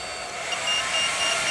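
A hair dryer runs from a power inverter, giving a steady whooshing airflow with a faint high whine that builds slightly in loudness partway through.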